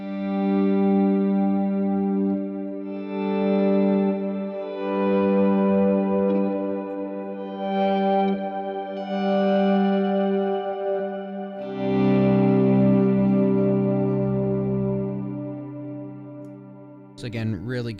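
Electric guitar notes swell in slowly through a reverb pedal on a worship pedalboard, each chord blooming from silence and trailing into long washy decay, four or five swells in a row, ending with a brief sharp noise.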